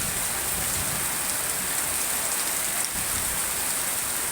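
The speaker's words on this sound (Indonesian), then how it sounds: "Ini juga kemungkinan juga nyampe malam ya hujannya ini." Heavy rain pours steadily in Cikarang, Indonesia, a dense, even hiss of drops on surfaces filling the whole stretch, loud and unbroken with no voices.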